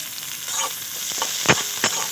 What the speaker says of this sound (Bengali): বাদাম গাজর আর পেঁয়াজ খুব ভালো করে ভেজে নেব